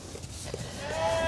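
A lamb bleats during handling while being checked for sore mouth, with a rising, drawn-out cry toward the end over rustling and movement close by.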